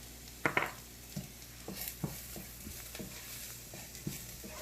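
Cumin and coriander powder being stirred in a cooking pan, with a few soft scrapes and light clinks of a utensil against the pan over a faint sizzle.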